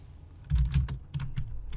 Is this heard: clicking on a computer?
yes